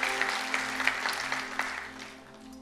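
Congregation clapping in praise during a Korean church Sunday worship service, a steady wash of applause with scattered sharper claps that gradually softens, moderate and close, with a faint low hum beneath.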